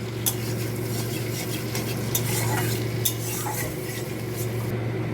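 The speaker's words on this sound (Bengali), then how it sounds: "গোটা গরম মশলা একটু ফোড়নে দিয়ে দেবো" Whole garam masala crackling in melted butter in a wok for chicken stew, a continuous close sizzle with light spoon scrapes and occasional metal clinks against the pan.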